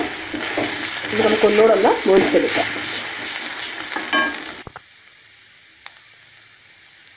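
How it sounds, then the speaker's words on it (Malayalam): Beef for a Kerala beef pepper fry is stirred in a hot pan, sizzling and scraping up close under a woman's speech. The sizzle cuts off abruptly to near silence with a faint tick. "ഇതിലേക്ക് നമുക്ക് നമ്മളുണ്ടാക്കി വെച്ചിരിക്കുന്ന ആ ബീഫ് എടുത്ത് ഇട്ട് കൊടുക്കാം. നല്ലപോലെ ഇളക്കി കൊടുക്കുക."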